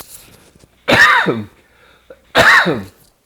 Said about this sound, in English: I'll do 2 coughs, try to get them out of the way.